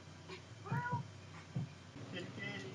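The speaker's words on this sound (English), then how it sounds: "She's quite cute that they're like meowing to try and find it." A cat meows several times, short and fairly close, with the calls spread through the clip above a low background hum.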